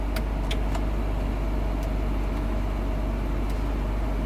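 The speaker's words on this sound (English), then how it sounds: "We're gonna let it sit and idle and see if how it runs." A BMW E30 Convertible idles nearby with a steady, low, even engine rumble and a few faint ticks, with no one talking.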